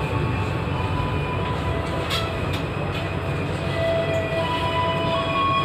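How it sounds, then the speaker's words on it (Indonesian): Bangunkarta passenger train standing on the adjacent track at Kutoarjo station in Indonesia, a steady rumble of railcars with faint metallic squeals and a few clicks, close and continuous. "ini ada di jalur sebelah adalah kereta api Bangunkarta dengan nomor KA 121C"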